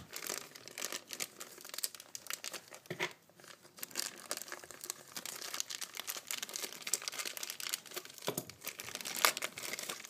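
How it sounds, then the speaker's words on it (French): A plastic bag for a ZAGG Invisible Shield iPhone screen protector kit is opened, giving continuous close crinkling and crackling of plastic with a few sharper tearing bursts throughout. "On va ouvrir le sac."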